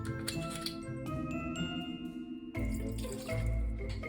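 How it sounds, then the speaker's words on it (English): Vodka pouring into a copper mule mug, a soft trickling liquid stream with faint metallic ringing, quiet and close, alone without voices. "In the mule mug, add 2 ounces, that's 60 ml of vodka."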